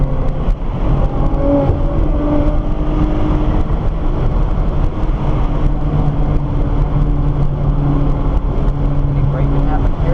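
Nissan GT-R on a race track, a loud, steady engine drone building under acceleration and running continuously throughout, with a voice talking over it.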